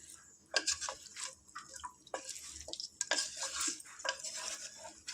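Country chicken fries in a pan as a utensil stirs it slowly, metal scraping and clinking against the pan in irregular strokes over a soft sizzle, close and fairly quiet, with no speech.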